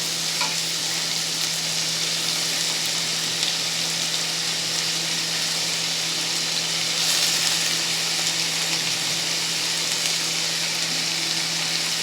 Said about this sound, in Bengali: কুচানো পেঁয়াজগুলো দিয়ে সব কিছু একসঙ্গে ভালো করে একটু কষিয়ে নেব। ভাজা ভাজা করে নিতে হবে।